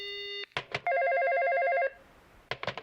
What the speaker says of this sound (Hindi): लगता है दूसरी कॉल आ रही है